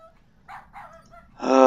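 A dog in the King's Quest 7 video game gives a few short yips and whimpers, then a louder, fuller bark at the end, heard alone without talk.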